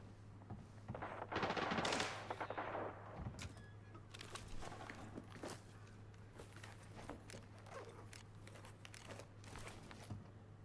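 An AR57 fires in a video game, rapid bursts of automatic gunfire with a swelling rush of noise early on, followed by scattered sharp clicks and shots over a steady low hum.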